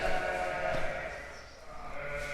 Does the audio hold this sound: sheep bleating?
yes